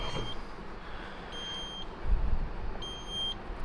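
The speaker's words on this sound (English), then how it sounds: "Sorry about the beeping, it's because I've got the door open." A 580bhp Nissan Skyline R33 sounds its door-open warning: three short, high, electronic beeps spaced at regular intervals, clear over a faint background rumble, with no talking.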